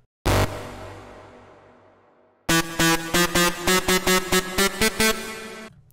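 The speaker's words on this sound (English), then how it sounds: "so it's a really harsh lead" A harsh, buzzy Massive synthesizer lead hits one long decaying note, then plays a rapid rhythmic run of short punchy notes, loud and upfront.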